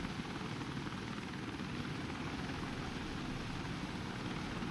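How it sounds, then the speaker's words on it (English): A transport helicopter in the WARDOGS video game gives off a steady, loud rotor and engine roar that fills the whole stretch without a break. "Oh, that guy's got a transport helicopter."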